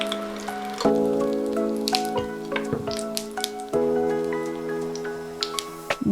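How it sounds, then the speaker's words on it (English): Hot oil poured onto uncooked egg whites in a pan, giving crackling spits and drips with two or three sharp sizzling bursts over a few seconds, close and fairly loud. "Take some oil and pour it onto the uncooked egg whites."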